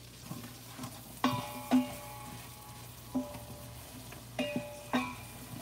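Chopped onions sizzle softly in a pan of garlic, ginger and chilies for Indian dal, a steady low frying hiss broken by a few sharp clinks and taps of a stirring utensil.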